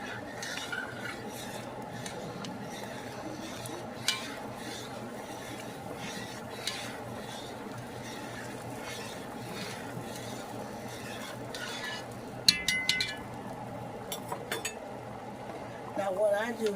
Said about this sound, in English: Let's stir all that in together.